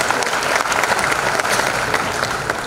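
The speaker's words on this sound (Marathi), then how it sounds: "लेखकाचंही टाळ्या वाजवून आपण स्वागत करूया." A dense, steady burst of applause from an audience welcoming the author at a book launch ceremony, continuous and fairly loud throughout without a break.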